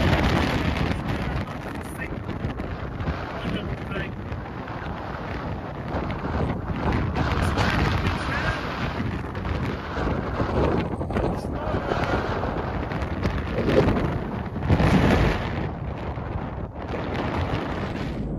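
Strong wind near a mountaintop on the Snaefellsnes peninsula, Iceland, buffets the microphone in heavy, continuous roaring gusts, swelling louder at moments.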